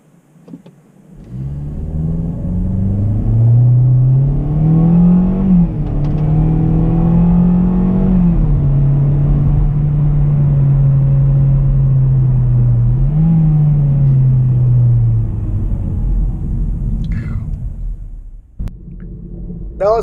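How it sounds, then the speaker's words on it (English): A 2020 Hyundai Elantra SEL in sport mode accelerates with a steady, droning engine note that rises, levels off and swells again across a long pull, loud and close, before fading out near the end. "Now I'm going to shift it into sport mode and see what kind of performance it has."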